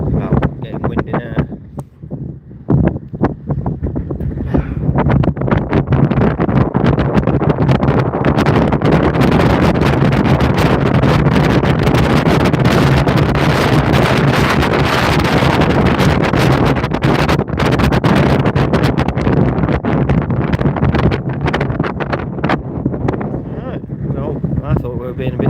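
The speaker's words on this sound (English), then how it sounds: "Wow, getting windy now." Strong wind on a cruise ship departing Cadiz, Spain, buffets the microphone in a loud, roaring rush that stays heavy and sustained, with a voice occasionally heard beneath it.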